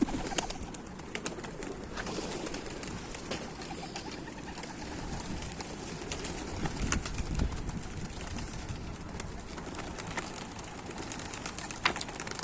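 A flock of domestic tumbler pigeons, including Dönek, Dolapçı and Kelebek breeds, is out in the open during a group flight. Faint cooing and wing sounds sit under a steady, rushing outdoor noise that lasts throughout.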